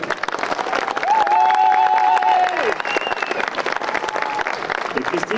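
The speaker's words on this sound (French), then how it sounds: "Vous pouvez tous les applaudir" Warm applause and some cheering fill the room at a restaurant inauguration, the clapping dense and sustained while a sung or whistled melodic voice rises briefly above the crowd.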